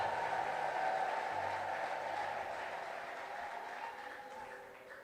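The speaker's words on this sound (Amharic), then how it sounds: "ለጌታ እልልታ ጭብጨባ ያለው ክብር ይስጠው" A church congregation claps together in sustained applause, a steady wash of hands from a large crowd that slowly fades, with a faint tonal hum underneath; no distinct ululation stands out.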